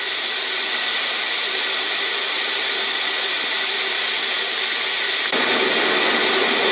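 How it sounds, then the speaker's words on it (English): Steady, even hiss of white noise from an AuCuTee S5 sleep machine, loud and unchanging like static, with a brief faint click near the end. "This one is white noise"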